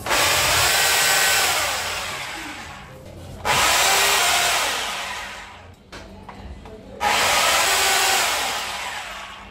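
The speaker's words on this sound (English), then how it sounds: "I will now drill the markings on the wall." A power drill drilling into a wall whines in two long bursts, close and loud, with a short pause between them and a slight rise and fall in pitch.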